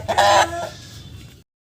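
A twelve-month-old Bhimavaram Rasangi Dega rooster, 22 in height and 3 kg, lets out a single loud, harsh cluck-crow up close that trails off quickly against faint farmyard background.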